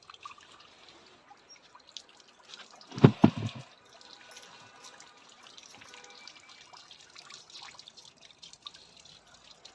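Water drips and trickles outdoors in a mountain village, with a brief louder splash of a few seconds amid quiet, steady background trickling.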